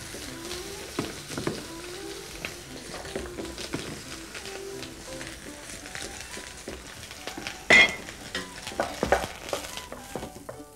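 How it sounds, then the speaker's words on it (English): Eggplant and onion frying in a mix of olive and sesame oil give a steady low sizzle, broken by scattered stirring clatter and a sharp utensil knock near the end; soft background music plays underneath. "And then we start putting the vegetables in, beginning with the ones that need most cooking"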